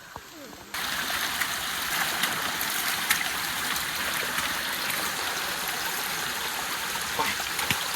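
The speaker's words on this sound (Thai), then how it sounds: "ได้ยินเสียงน้ำบ่" A forest stream rushes steadily, a dense broadband wash of flowing water that swells in after a brief quieter start and continues evenly throughout, with small splashes and no voices.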